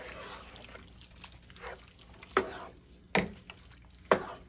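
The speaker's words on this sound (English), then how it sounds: "Getting them beans all moved around in there." Kidney beans get stirred through a pot of chili, soft wet sloshing and a low bubbling bed punctuated by three sharper scraping knocks of the spoon against the pot, close and fairly quiet.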